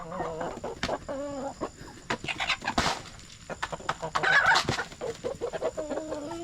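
Rhode Island Red hens cluck and squawk loudly and close by while laying eggs, a busy run of repeated calls with short gaps between them.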